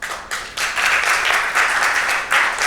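Audience applause at a smart-city innovation event, a loud close burst of many hands clapping in bursts that swell and keep going.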